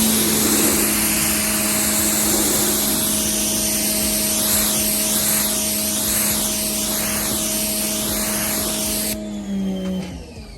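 A foam cannon blasts soapy foam onto the coated panel of a Tesla, a loud steady hissing spray holding for about nine seconds before cutting off near the end, with a faint whine underneath.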